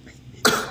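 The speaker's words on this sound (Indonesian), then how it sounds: "Batuk-batuk." A single sharp cough bursts out after a quiet moment, close and fairly loud, then trails off quickly, during a casual live chat among friends.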